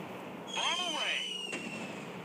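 A bomb explodes in the WW2 air-combat game Warplanes: WW2 Dogfight: a wavering whistling tone sweeps through before a sharp, fairly loud burst, with engine drone continuing underneath.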